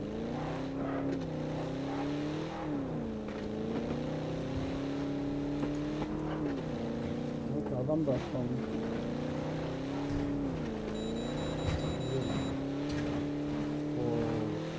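A car engine driving in PUBG Battlegrounds hums steadily with rising and falling revs throughout, fairly close and continuous, while a person speaks briefly over it.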